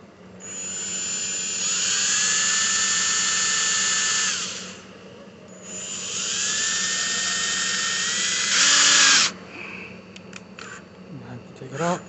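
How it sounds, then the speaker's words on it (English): Close, loud cordless drill whirs in two sustained runs, speed rising as screws drive into a wooden giant candy cane, followed by brief clicks and handling noise. "I'm gonna put a couple of screws"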